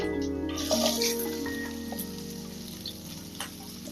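Ginger, crushed garlic and square-cut onion fry in a pan for a Kerala-style idli manchurian, a steady close sizzle running the whole time under a faint background voice and soft ticking.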